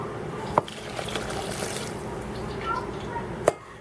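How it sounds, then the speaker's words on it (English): Liquid poured into donut batter in a kitchen, a steady close trickling and splashing stream with a couple of sharp clinks of the container, under a faint room hum. "We're going to pour this into the batter."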